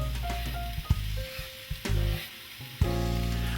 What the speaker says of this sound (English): Next to go in the pot will be our garlic.